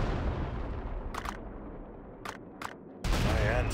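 Gunfire and artillery-like blasts in a World War real-time strategy game: a dense, loud barrage rumbling throughout, with several sharp bursts cutting through and a heavy roar swelling near the end.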